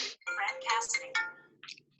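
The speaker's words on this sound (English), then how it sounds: "Somebody has a phone ringing." A phone ringing during a group discussion: a bright electronic ringtone melody repeating in short bursts, fairly clear in a quiet room, with no speech over it.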